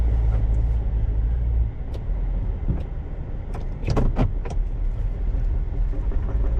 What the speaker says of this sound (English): we are taking off from the dealer in this 2500 work truck with the massive turbo diesel V8